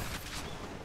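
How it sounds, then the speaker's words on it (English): An explosion in the action video game Hades, a short dense blast of crackling, rumbling noise that fills the whole moment at close range. "He just walked over and there was an explosion."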